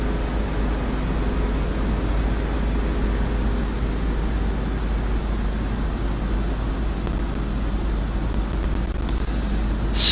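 A World War II aircraft engine drones steadily and evenly inside the cockpit on final approach to runway 24 at Sikorsky Airport, a constant broad roar with a low hum beneath it.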